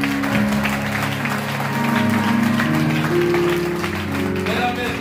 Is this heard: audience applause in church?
yes